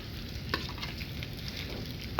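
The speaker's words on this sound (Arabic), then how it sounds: "بعد ما انا مقلعت السمنه بنزل بالبطاطس بتاعتنا اللي انا عملتها" Boiled potatoes fry in country ghee in a pan with a constant bubbling sizzle while they are stirred; two sharp scrapes stand out, near the start and at the end.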